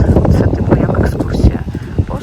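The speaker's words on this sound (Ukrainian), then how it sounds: "якось вітерець так піднявся" Gusty wind buffeting the microphone during a walk through a university arboretum park in Chernivtsi, a loud, rumbling rush that rises and falls, with a voice talking over it.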